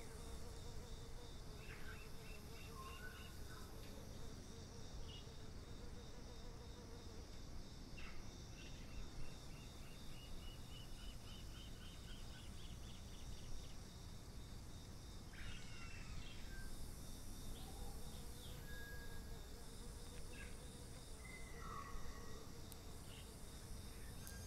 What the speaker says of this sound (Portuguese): os grilos no aeroporto.